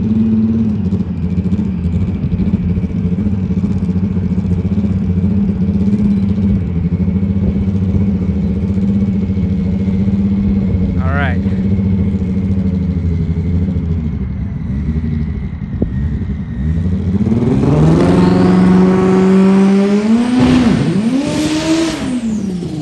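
Race car engine during PSCA stock car qualifying, a loud, rumbling drone held at steady revs, then a sharp rise and fall as the throttle opens near the end, heard alone without talk.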